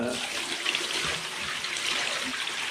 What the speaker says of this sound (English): I'm gonna pour this out, see what kind of dirt and grime comes out of there.